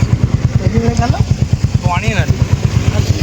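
A motorcycle idles close by, its engine a steady, rapid low thumping that holds evenly throughout, with brief voices rising over it.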